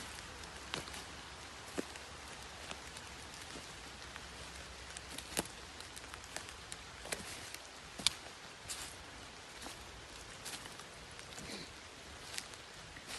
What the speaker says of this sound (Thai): ตอนนี้ก็ฝนตกแล้วแต่ตกไม่แรง